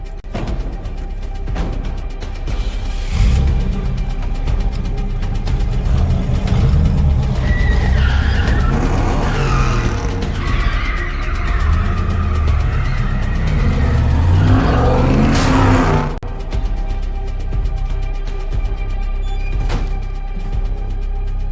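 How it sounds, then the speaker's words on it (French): A car pulls away in a hurry, its engine revving loudly and steadily for about twenty seconds, with a brief tyre skid partway through; no one speaks over it. "il faut que tu montes dans cette voiture et qu'on foute le camp d'ici"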